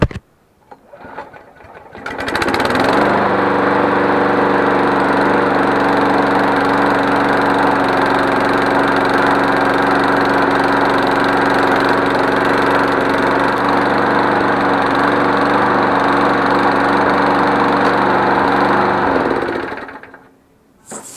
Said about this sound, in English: got the lawnmower started, and drive wheels are working perfectly